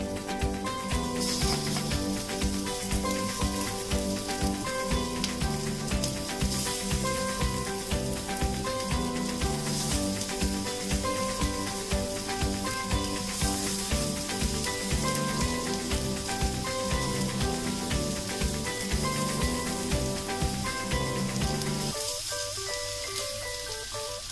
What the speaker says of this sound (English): I have just greased my pan. Placing tikki on it.